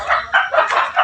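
A chicken clucks in a rapid series of short, loud calls close by, with no talk.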